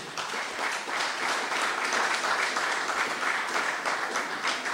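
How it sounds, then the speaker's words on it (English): An audience at a public forum in St. Peter's applauds the Police Commissioner with sustained, even clapping throughout, moderately loud and slightly distant. "a round of applause to our nation's Police Commissioner, Mr. C.G. Walwyn"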